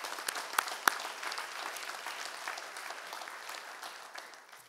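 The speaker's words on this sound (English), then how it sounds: "I'd like to go ahead and give them a big round of applause as well." An audience at a lecture applauds, a soft, fairly distant patter of many hands that starts with a few sharp claps and then gradually fades away.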